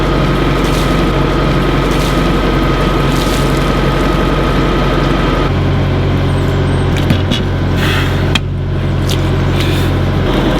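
A tractor engine runs close and loud in a steady drone, its low hum shifting pitch partway through as the revs change, with no talk over it.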